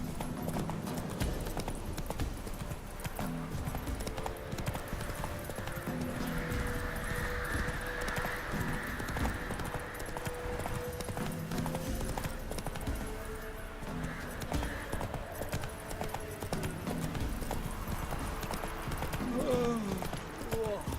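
Roach the horse gallops in The Witcher 3 video game, hooves clip-clopping in a steady rhythm, close and continuous throughout.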